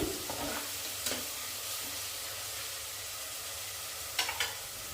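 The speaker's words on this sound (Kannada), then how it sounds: "ಇದಕ್ಕೇ ನಾನೀಗ ಶುಂಠಿ ಬೆಳ್ಳುಳ್ಳಿ ಪೇಸ್ಟ್ನ ಹಾಕ್ಕೊಂಡು ಹಸಿ ವಾಸನೆ ಹೋಗೋವರೆಗೂ ಫ್ರೈ ಮಾಡ್ಕೋತಾ ಇದ್ದೀನಿ" Ginger garlic paste fries with onions in a pan for soya palav, a continuous low sizzle with a few sharp spatula scrapes and stirs, close and fairly quiet, with no talking.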